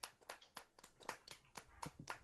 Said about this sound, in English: Oh, they're clapping.